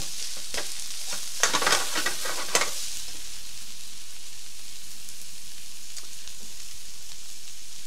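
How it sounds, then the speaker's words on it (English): Potatoes sizzle and crackle in a frying pan, with a busy burst of stirring near the start, then a soft, steady hiss that fades low. "So can you see that's already sizzling?"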